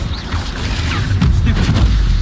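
The Incendio fire spell cast in Hogwarts Legacy, a whooshing, crackling burst with low booming rumble that swells toward the end, close and fairly loud amid game ambience.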